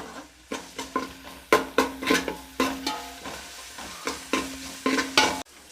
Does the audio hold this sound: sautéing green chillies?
yes